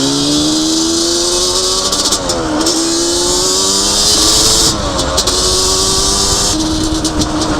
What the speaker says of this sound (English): So I'm just going to let this quad warm up a little bit.